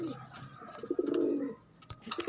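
Pigeons give a short, soft, throaty coo close by, with a few faint rustles and chirps around it.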